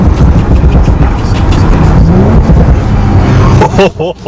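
A 2019 Audi RS5 engine roars loudly, then the exhaust lets out a quick burst of sharp crackling pops near the end.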